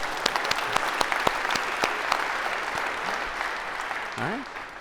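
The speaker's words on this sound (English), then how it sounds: "Maybe a round of applause, because this is always awkward" A lecture-hall audience in a university artificial intelligence class claps for a volunteer coming to the stage, brisk applause with sharp individual claps that thins out as a voice begins speaking near the end.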